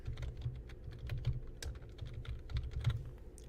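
Steady typing on a computer keyboard, a run of quick, light key clicks at an even pace, close and fairly quiet, with no talking.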